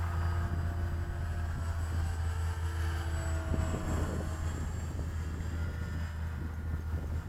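An RC model Cessna 182 of about 1400 mm wingspan flies past at a model airfield, a steady faint engine drone over wind noise that swells slightly as it comes near.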